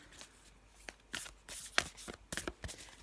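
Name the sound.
shuffling a deck of cards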